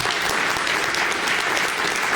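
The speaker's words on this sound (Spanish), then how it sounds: "Dele un aplauso al Señor." A church congregation claps in praise, a brief burst of dense, steady applause from a gathered group, close and loud with no pauses.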